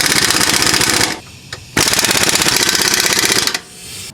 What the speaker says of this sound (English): I'm just going to use my my impact gun.